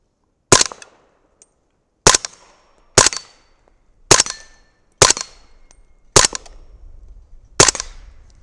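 Six sharp 300 BLK rifle shots fired from a 30-round magazine with powder-coated bullets, loaded with Winchester 296 powder, spaced irregularly about a second apart outdoors, each loud crack decaying quickly with brief echo.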